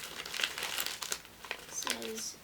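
A little piece of paper crinkles and rustles close up in a quiet room, a few short crackling bursts in quick succession with a soft voice murmuring between them.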